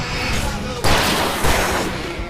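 Fireworks burst in the video game Alan Wake Remastered, loud booming blasts with a sharp crackling onset near the start and a second surge shortly after, over a dense roaring background.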